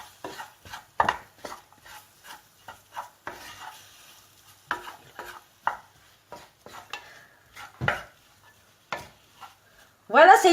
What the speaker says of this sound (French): Ensuite, on mélange.